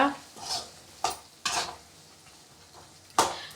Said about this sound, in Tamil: இப்போது நம்ம ஆல்ரெடி வேக வச்ச பச்சை பருப்பும் சௌசௌவையும் கடாயில் போட்டுட்டு கரண்டியால் நல்லா மிக்ஸ் பண்ணி விட்டுக்கோங்க